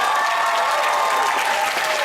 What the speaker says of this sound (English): another big round of applause for Shadow the Hedgehog